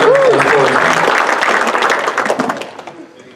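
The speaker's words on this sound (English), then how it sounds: "big round of applause for Adam Leslie" A crowd at a motorsports awards banquet applauds loudly at first, the clapping thinning out and fading over a few seconds, with a voice talking briefly at the start.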